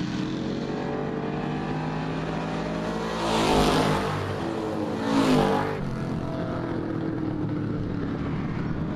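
Stock cars roar around Springport Motor Speedway during a heat race, a steady engine drone with two louder swells as cars sweep past, heard from a distance with no talk.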